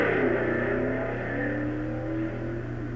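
A C class dragster roars down the strip at the 1958 NHRA drag races, one loud, sustained engine howl that rises and then holds steady, close and alone without voices.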